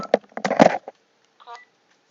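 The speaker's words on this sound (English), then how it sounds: "I got a phone call coming in." A phone signals an incoming call with a short burst of tones, then a fainter, briefer chirp after a pause; nearby, close-miked and alone.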